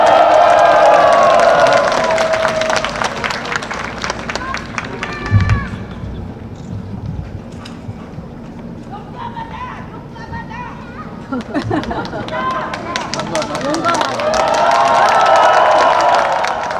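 A large crowd at a Seoul National University candlelight rally cheers and applauds as a speaker is welcomed. Loud cheering and clapping swell at the start and again at the end, with voices and thinner crowd noise in between.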